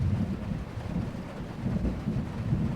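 Steady rain and low rumbling thunder heard from inside a car, a dense, muffled wash of noise with gentle swells and no voices.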